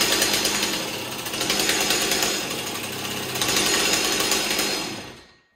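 Stihl 026 chainsaw with a scored cylinder being pull-started with the decompression valve off: a loud, dense mechanical rasping and clattering runs steadily for about five seconds with no talk, then cuts off.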